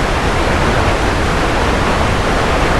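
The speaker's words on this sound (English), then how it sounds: "routed my melody into the noise recording as a sidechain to make that noise kind of react a little bit to" A noise recording, routed as a sidechain to a synth melody, produces a loud, steady wash of broadband hiss resembling rushing water. The level stays fairly even throughout.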